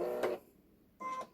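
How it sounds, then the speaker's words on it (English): Embroidery machine carriage moving the hoop: a short mechanical whir and buzz that pauses briefly, then resumes, fairly quiet and close. "The carriage of the embroidery unit will move."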